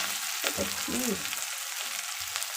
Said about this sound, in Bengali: চলো রান্নাটা এখন করি আর একদম ভাজা হচ্ছে